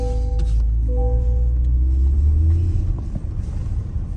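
A rebuilt 2022 Corvette C8 rolls slowly through a parking lot, its engine giving a low, steady rumble with a faint whine rising and easing over a few seconds, close and without talk.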